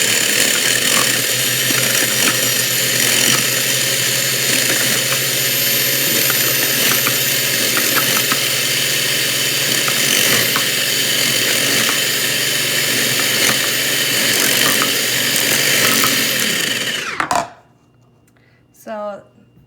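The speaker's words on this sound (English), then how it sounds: "First, lock your food processor, and then put the veggies through." A Black and Decker food processor slices vegetables with a loud, steady motor whine and rattling chatter of the blade, close up, running continuously before abruptly shutting off and leaving near silence with a brief sound at the end.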